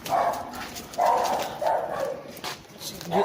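A small dog barks repeatedly in short, high yaps, several in a row at a moderate distance, with people talking nearby.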